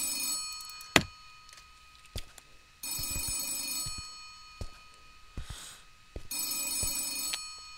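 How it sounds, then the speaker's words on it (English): An old-style telephone bell rings in the puzzle video game The Tape, coming in bursts of bright metallic trilling with pauses between, plus a few sharp clicks and knocks, and no talk. "Is that a phone?"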